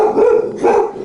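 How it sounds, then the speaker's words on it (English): A dog barks loudly and close by in two deep, full barks about half a second apart, with no talk over them. "Another dog came by."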